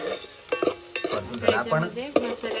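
Onions frying crisp in a pan of hot oil with whole spices for village-style chicken, a close crackling sizzle broken by sharp scrapes and clinks of a spoon stirring against the metal.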